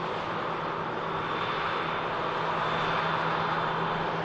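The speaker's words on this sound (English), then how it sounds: "This aircraft just arriving in from Enfida." An airliner arriving at Manchester Airport from Enfida roars with a steady, dense engine rumble and hiss, loud and unbroken throughout, with a faint steady hum running beneath.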